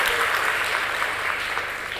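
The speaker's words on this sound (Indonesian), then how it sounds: "Tapi tepuk tangan semua" Lively applause from a seminar audience at a business training event, a loud, close wash of many hands clapping steadily throughout.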